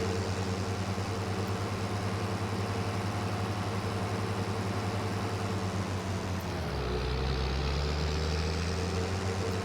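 A Fiat tractor engine idles in a farming simulation game, a steady low rumble that shifts to a deeper, heavier drone partway through, with no talk over it.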